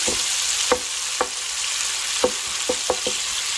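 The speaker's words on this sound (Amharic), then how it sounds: "ወደ 1-2 ደቂቃ እንደዚህ በርበሬውን ከስጋው ጋር ጥብስ አድርገዋለሁ።" Berbere spice and beef frying in a pan, a steady close sizzle with several sharp clicks of a utensil stirring through the meat.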